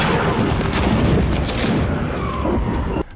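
The forward cannon of a Star Wars AT-TE walker fires, a loud, close barrage of booming blasts and crackling bursts that rolls on continuously and drops away sharply at the very end.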